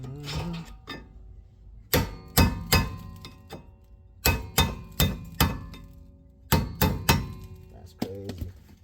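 Sharp metallic hammer blows on the rear brake parts and rotors of a 2006-2015 Honda Civic Si land in quick bursts of three or four, separated by short pauses, loud and close.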